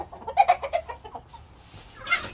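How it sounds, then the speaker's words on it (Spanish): An ash-grey fighting rooster gives a quick run of close, clucking calls, falls quiet briefly, then lets out one sharper, higher call near the end. "Y este, que se llama Un Secreto, es un gallo cenizo que me regalaron."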